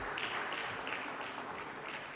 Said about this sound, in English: Could you please have a round of applause for all our panelists?